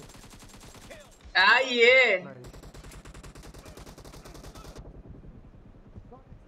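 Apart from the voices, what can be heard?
M4 rifle gunfire in PUBG Battlegrounds India video game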